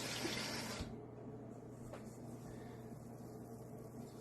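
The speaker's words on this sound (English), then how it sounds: "What I like to do is put a little bit of water in there, like maybe a couple cups" Water pouring from a container onto jerky seasoning and cure for venison jerky, a soft hissing splash for under a second, then quiet room noise.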